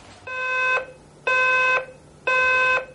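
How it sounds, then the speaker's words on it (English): An alarm clock beeps in three long, evenly spaced bursts of a bright harmonic tone, loud and close with no voices. "When my alarm clock goes off in the morning, I don't wake up."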